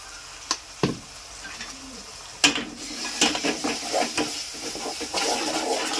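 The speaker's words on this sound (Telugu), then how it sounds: "మనకైతే ఉల్లిగడ్డలు మిరపకాయ ఫ్రై అయినాయి కదా" Onions and chillies frying in a pan for a chicken liver curry, with soft sizzling, a few sharp clanks of a spoon against the pan and steady stirring scrapes, heard up close.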